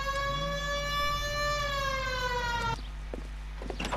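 A wailing police car siren in the video game L.A. Noire sweeps steadily for nearly three seconds, then cuts off abruptly, leaving quieter engine rumble and a few scattered knocks.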